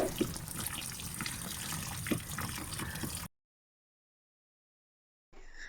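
Dirty washing water poured out from a bag being cleaned, a loud close gush and trickle that stops abruptly, followed by silence and a brief return of splashing.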